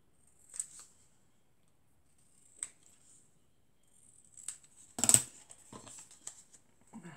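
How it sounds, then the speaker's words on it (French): Scissors snip decorative scrap paper for a craft tag, a few sparse crisp cuts spaced out, then a denser cluster of quiet snips, close and soft in a quiet room. "Donc on va couper encore un peu ce côté."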